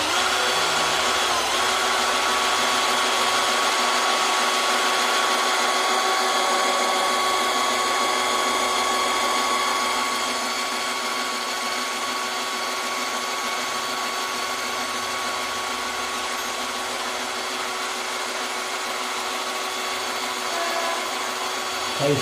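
A power drill in high-torque mode bores a hole in stainless steel plate, giving a loud, steady whining grind that holds for a long stretch and eases slightly midway.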